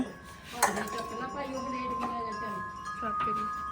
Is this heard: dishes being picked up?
yes